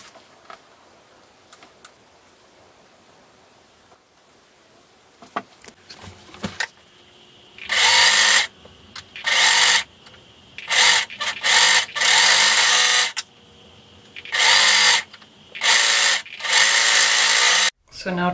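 A sewing machine stitches the side seams of a t-shirt being turned into a child's romper, running in a series of loud, close bursts of rapid whirring separated by short pauses, after a quieter stretch of handling fabric.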